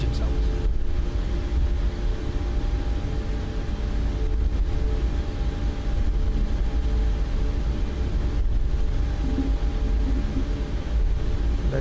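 A Boeing 737 Max 8 in Microsoft Flight Simulator, in Air Canada livery, with its engines spooling: a steady, even jet drone and hum that holds at constant loudness for the whole stretch.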